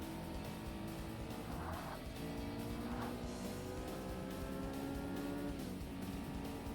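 Race car engine from the Forza Motorsport video game, a steady loud drone with layered engine harmonics that hold and shift pitch, with brief bursts of higher noise along the way.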